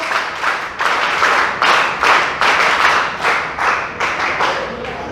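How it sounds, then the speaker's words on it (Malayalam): Audience clapping in rhythmic bursts to applaud a student at a mindfulness talk, about eight loud, close rounds of claps, each rising and falling in a steady pulse. "വിഷ്ണുപ്രിയയ്ക്ക് ഒരു നല്ല ക്ലാപ്പ് കൊടുക്കാമോ?"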